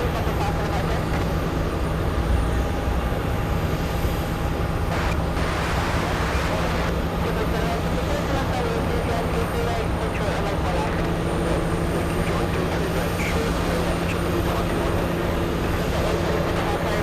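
Boeing 757 airliner at Boston Logan International Airport, a loud continuous jet roar that holds steady throughout, heavy and close with a broad rumbling wash.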